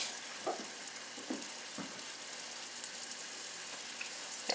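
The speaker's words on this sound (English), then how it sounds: "I'm just going to put it in there until it starts to sizzle" Soft, steady sizzling of chicken frying in hot oil, with a few quiet clinks and stirring sounds, no talking.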